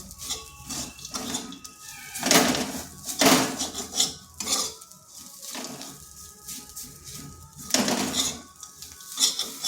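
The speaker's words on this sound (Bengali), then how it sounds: "এটা কিন্তু এভাবে অনবরত নাড়তে হবে না হয় লেগে যাবে" A gram flour (besan) batter for a bitter gourd dish is stirred nonstop in a pan, with repeated close scraping and clinking of a utensil against metal in irregular bursts, alone without speech.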